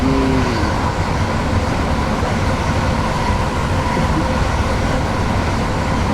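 An electric train in Train Sim World 3 runs on the Dartford to Gillingham line with a steady, continuous rumble of wheels and motors at constant loudness throughout, and a brief faint tonal whine near the start.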